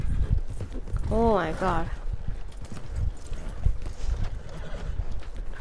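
Hoofbeats of a horse in the video game Red Dead Redemption 2, clip-clopping under a voice, with a short whinny partway through.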